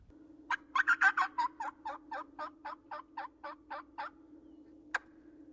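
A hen turkey yelp imitated with a mouth diaphragm call by a hunter in Louisiana, a clear run of about a dozen evenly spaced raspy yelps, louder at first then steady, followed by one short final note, close and alone.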